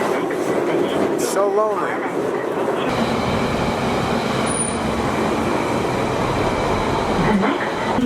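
London Underground train running on rails, a steady loud rumble with rattling and a squeal, heard from inside the carriage with a voice speaking briefly over it.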